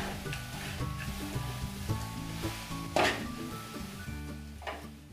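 Flattened rice and peanuts being stirred in a pan, with soft repeated scraping and a light sizzle under steady background music, one sharper clatter midway, no talking.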